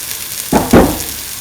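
Potato and soy chunks with spices sautéed in a pan, a steady close sizzle broken by two short bursts of stirring and scraping.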